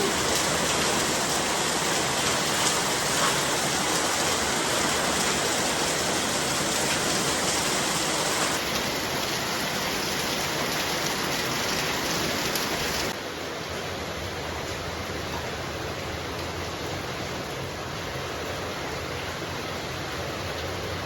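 Heavy winter rain pours down steadily over rural fields, a dense, continuous hiss of downpour that stays loud and unbroken throughout, with no voices.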